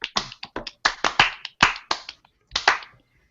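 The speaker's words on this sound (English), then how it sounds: "Slow clap." A few people clap slowly and unevenly, each clap sharp and close, roughly a dozen spread out with gaps, and a last pair after a pause before quiet.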